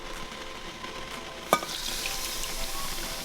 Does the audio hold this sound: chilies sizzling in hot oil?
yes